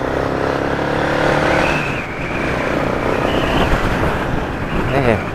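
A Suzuki DR 650 dirt bike engine running after carburettor repairs, a steady loud motorcycle drone with rising and falling revs as it rides, a voice briefly heard over it.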